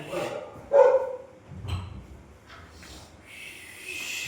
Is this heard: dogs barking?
yes